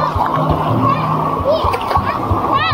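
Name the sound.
water splashing while bathing in a river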